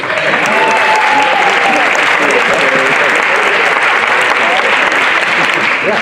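Dense, loud applause from a gala audience continues evenly throughout as a broad wash of many hands clapping, with no talking over it.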